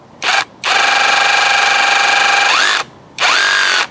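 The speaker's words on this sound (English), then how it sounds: "So the drill bits do work as chisels." A loud cordless hammer drill chiseling cinder block runs in three bursts: a short buzz, a long sustained whine that dips in pitch near the end, then another short burst.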